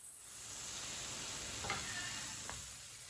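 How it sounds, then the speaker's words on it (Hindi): A mixture cooking in a pan while it is stirred, a soft continuous sizzle and hiss with a couple of brief scraping strokes of the spoon, fairly quiet and without speech. "1 मिनट के लिए ना इसी तरह मिक्स कर लेंगे।"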